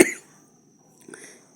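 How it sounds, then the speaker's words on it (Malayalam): One short, sharp cough breaks out close by in a kitchen while Wayanad-style banana stem thoran is being cooked, followed by quiet background noise. "ഇടയ്ക്കൊരു ചുമ കയറിപ്പോയി കേട്ടോ."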